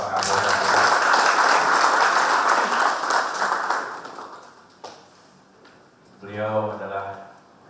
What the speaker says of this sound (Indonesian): Tepuk tangan untuk Bapak Kapolda.